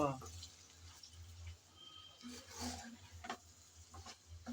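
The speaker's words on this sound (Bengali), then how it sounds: "কাঁচামরিচ দিয়ে এখন সব একসাথে ভালো করে নেড়ে চেড়ে কষিয়ে নেব" Taro stolons and green chillies are stirred in a pan, giving a faint sizzle with scraping stir strokes and small clinks, quiet and close.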